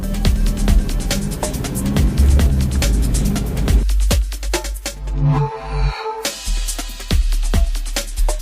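A diesel car engine idles and revs with a low, rough rumble, punctuated by sharp clicks and knocks, close by.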